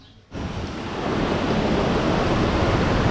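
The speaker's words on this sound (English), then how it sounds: "this is the flow of the water, as you can see there" Rushing water roars steadily at Font d'Algar on the Costa Blanca, swollen after heavy rain; the loud, broadband flow surges in after a brief quiet start and holds constant throughout, with no voices.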